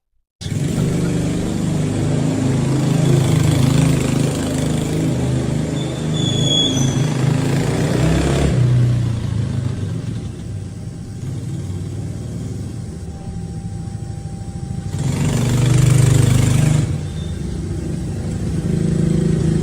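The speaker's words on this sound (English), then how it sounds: "it's just him riding around an ATV" A kids' ATV engine droning steadily as it rides around, loud and continuous with a rougher, louder stretch midway; no talking.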